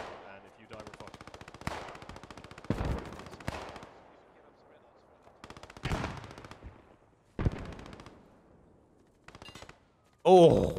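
Machine gun fire in the WWII shooter Post Scriptum: sharp, rapid bursts repeat in separate volleys at varying distances, with brief pauses between them and a loud burst near the end.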